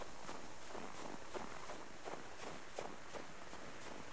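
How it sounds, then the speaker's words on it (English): Steady, evenly paced footsteps in the survival video game Subsistence, a quiet run of soft thuds at a brisk walking rhythm with no voices. "Thought I heard footsteps."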